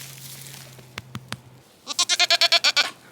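A goat on a small quarter-acre homestead gives a loud, close, rapid stuttering bleat of about nine pulses, after a few faint clicks.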